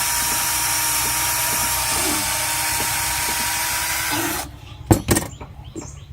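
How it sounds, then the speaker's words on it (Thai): A power drill boring a screw hole to lock a wooden piece in place, a steady loud whine running for about four seconds before cutting off, followed by a few sharp knocks and handling clatter. "เจาะสำหรับใส่สกรูเพื่อล็อกไม้กันเขียน ไม่ให้มันขยับ"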